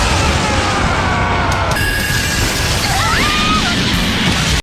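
Large explosion in an anime battle as a demon transforms, a loud sustained roar of noise filling the whole clip with a crash near the start and sweeping tonal effects layered on top.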